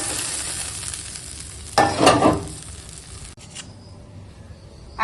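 Boiled potatoes and taro dropped into a sizzling curry, a short rough burst of scraping and mixing standing out over steady frying, then quieter sizzle with a few knocks.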